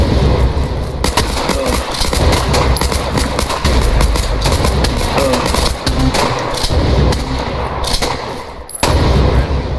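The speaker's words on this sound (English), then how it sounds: "that at least showed the soldiers shooting at the zombies" Soldiers firing guns at zombies in a video game, loud dense rattling bursts of automatic gunfire over a constant rumbling din, near and relentless with no spoken voices.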